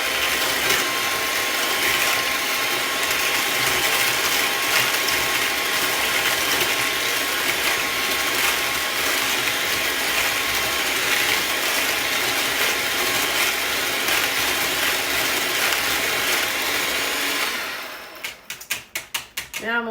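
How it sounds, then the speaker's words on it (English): An electric hand mixer whirring steadily and loudly through banana split pie filling, a continuous buzzing drone that cuts off near the end, followed by a few clattering knocks. "I'm going to mix this up just a little bit more with a mixer"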